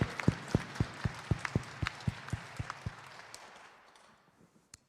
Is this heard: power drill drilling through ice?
no